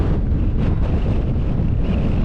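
Strong wind roars across the microphone on the High Rigg summit, a Lake District fell top, as a loud, continuous low buffeting rumble with no breaks.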